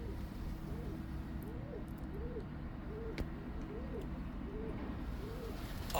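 Boyalı Kula pigeons coo in a steady repeated rhythm, soft and somewhat distant, under a constant low background rumble.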